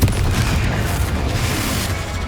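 A Confringo blast spell explodes in the video game Hogwarts Legacy, giving a loud, dense, booming burst with a rumbling roar that holds steady for about two seconds, with no talking.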